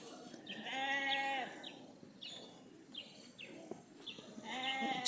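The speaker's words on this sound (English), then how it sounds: "little flock of sheep" A small flock of sheep on a farmstead bleat several times, quiet and somewhat distant, in wavering calls spaced across a few seconds over a soft outdoor background.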